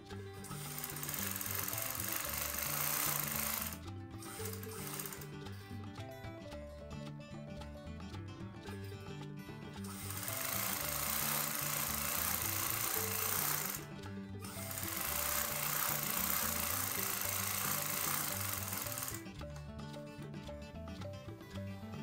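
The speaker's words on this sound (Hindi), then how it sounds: "अब इसे जोड़ के साइड की सिलाई लगा लेते हैं।" A sewing machine stitches the side seam of a pair of trousers, with long steady runs of rapid mechanical whirring that stop in brief pauses between passes, heard close and alone.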